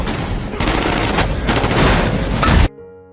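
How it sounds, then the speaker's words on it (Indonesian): A rapid fusillade of gunshots erupts in a film scene, dense and loud for over two seconds, then cuts off abruptly into a faint ringing tone. "suara tembakan mendadak menggema"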